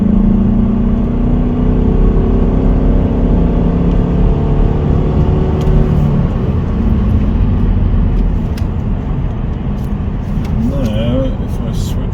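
Mercedes E220 CDI diesel car pulling hard up a hill, a steady loud engine drone from inside the cabin that holds and then eases slightly, with faint rumble throughout.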